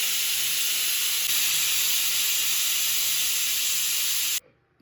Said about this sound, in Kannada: ಈಗ 1 ವಿಜಿಲ್ನ ಕುಕ್ಕರ್ನ ಕೂಗಿಸ್ಕೊಂಡಿದ್ದೀನಿ.